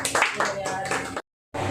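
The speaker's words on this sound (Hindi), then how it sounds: "चलो भाई तालियां बजा दो।" An audience claps at a teachers' day celebration at a coaching institute, a short burst of steady clapping mixed with voices, cut off abruptly and resuming after a brief silence.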